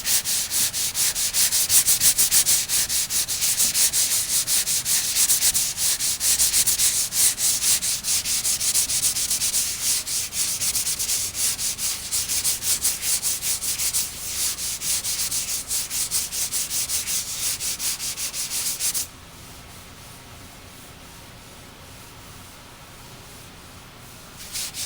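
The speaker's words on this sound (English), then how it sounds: "So now I'm going to continue doing my cross sanding." A sanding block is rubbed by hand across body filler on a car panel in a cross-sanding pattern, a loud rhythmic rasping scrape that runs for about nineteen seconds, then stops and leaves quiet.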